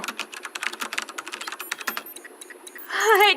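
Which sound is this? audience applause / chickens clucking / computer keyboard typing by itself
computer keyboard typing by itself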